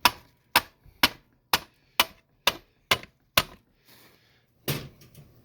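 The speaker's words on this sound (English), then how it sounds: "See, I'm just tapping it with a hammer." Eight sharp, evenly spaced hammer taps on a car seat during a seat cover install ring out in a steady rhythm, followed by a pause and a final scuffing knock.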